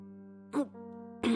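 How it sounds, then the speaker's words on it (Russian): Two short throat clears from the Tiny Bunny video game, one brief and one rougher, sound over a steady, droning musical background tone. "Я прочистил горло"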